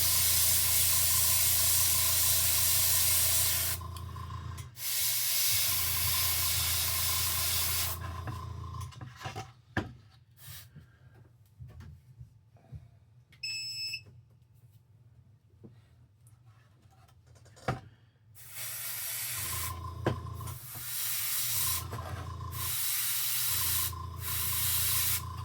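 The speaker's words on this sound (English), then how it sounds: "I'm using the Seraphim Sepia shade through the airbrush right now." An airbrush spraying Seraphim Sepia shade paint onto a miniature: a loud, steady airy hiss in long bursts, stopping for a quieter stretch of small handling sounds before spraying again.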